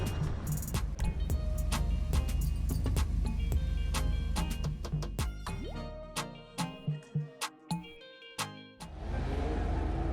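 A car driving and drifting in GTA Online, its engine droning and shifting pitch through revs and gear changes, with clusters of quick ticking clicks and a brief fading tail at the end, no speech.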